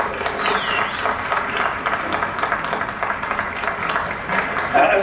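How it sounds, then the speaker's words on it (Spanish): An audience of older people at a community centre celebration of the Cantabrian Marzas tradition claps in sustained, even applause that carries on without a break. "Vamos a premiarle con un fuerte aplauso."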